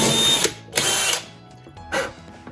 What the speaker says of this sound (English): I'm gonna use a self-centering drill bit